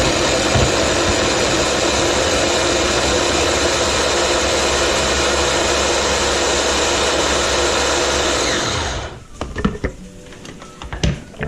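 A food processor making breadcrumbs whirs loudly and steadily for several seconds, then shuts off, followed by faint clattering and handling noises.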